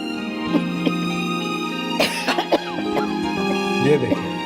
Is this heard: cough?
yes